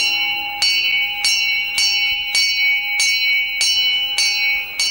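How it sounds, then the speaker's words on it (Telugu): A temple bell rings in steady, evenly spaced strikes, about eight clear metallic clangs with ringing tails, loud and close with no voices. "గుడిగంట మోగింది"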